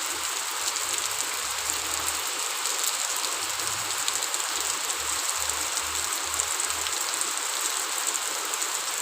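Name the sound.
heavy rain falling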